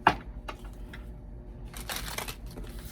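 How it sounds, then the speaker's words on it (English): Tarot cards shuffled by hand, soft irregular riffling and rustling bursts, close and fairly quiet, with a stronger flurry near the end and no talking. "So let's go ahead, shuffle the deck"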